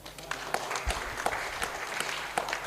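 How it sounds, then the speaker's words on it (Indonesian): An Indonesian audience applauds Pak Harsono, lively clapping with distinct individual claps standing out against a continuous patter for a few seconds. "Tepuk tangan buat Pak Harsono."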